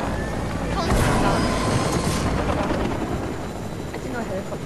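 A helicopter in the Fortnite video game gives off a loud, continuous rotor drone and engine rumble that swells and then holds steady, with a player talking over it.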